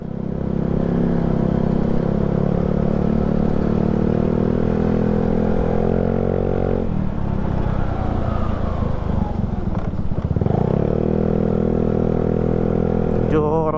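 A Yamaha Mio Sporty scooter with a freshly cleaned CVT idles close by with a steady humming drone and noticeable vibration, its pitch dipping and shifting briefly midway before settling back.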